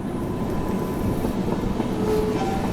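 A Jan Shatabdi Express passenger train rolls along, heard from inside a Vistadome glass coach as a loud, steady rumble with faint rhythmic wheel clatter.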